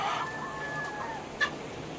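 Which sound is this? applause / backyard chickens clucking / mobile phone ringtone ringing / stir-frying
backyard chickens clucking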